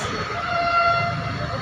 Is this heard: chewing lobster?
no